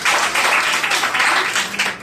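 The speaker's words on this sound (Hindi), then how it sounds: "इनके लिए जोरदार ताली होनी चाहिए।" Sustained audience applause at a crowded indoor venue program, loud and continuous dense clapping filling the whole two seconds with no break.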